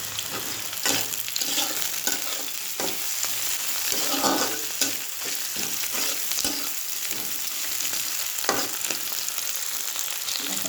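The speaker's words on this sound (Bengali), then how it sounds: "লাল লাল করে পেঁয়াজটা ভাজা হয়ে গেছে। এবার আমি মাংসটা ঢেলে দেবো।" Meat tipped into a pan of deep-red fried onions, sizzling loudly and steadily for the whole stretch, with repeated scraping stir strokes and clanks close by and no talking.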